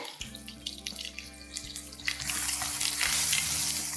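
Oil sizzles and crackles, growing into a loud, steady frying hiss halfway through as garlic and ginger-chilli paste sauté, with light stirring scrapes over a low background hum.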